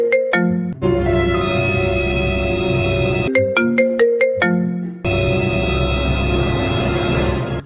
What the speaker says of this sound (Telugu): ఏరా అన్నిసార్లు ఫోన్ వస్తుంది?